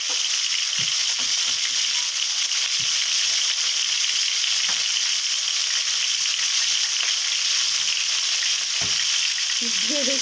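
Pointed gourd (potol) frying in oil for a tel potol curry, a steady loud broadband sizzle throughout, with occasional soft clicks of a utensil and a brief higher-pitched tone near the end.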